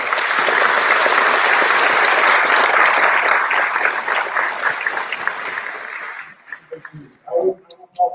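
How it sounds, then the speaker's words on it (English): At a sheriff's office academy graduation, the audience gives spouses and families a strong, steady round of applause that fades after about six seconds into scattered last claps and a few stray sounds. "Just give these ladies a round of applause"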